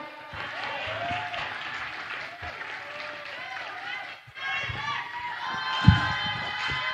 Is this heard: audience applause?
yes